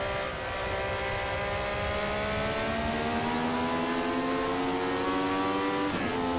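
Nissan NP35 race car engine in Assetto Corsa, droning steadily through a lap with a rising, strained whine as revs build, loud and continuous with a brief shift near the end and no talking.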